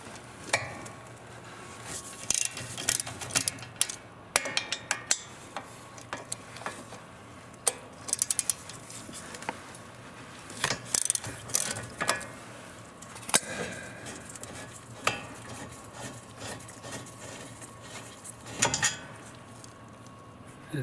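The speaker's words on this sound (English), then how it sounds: "we will remove two bolts that hold in the bracket. So socket number 17." A ratchet with a 17 mm socket works the brake bracket bolts on a fifth-generation Toyota RAV4, giving close, irregular bursts of clicking with metallic knocks and quieter pauses between turns.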